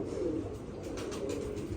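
A pigeon coos softly and low, a brief murmuring call close by against a faint background hum.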